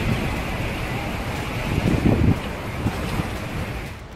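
Strong winds from Cyclone Remal roar steadily along a coast, a dense, loud rushing blast with gusting surges and crashing surf mixed in, with no voices.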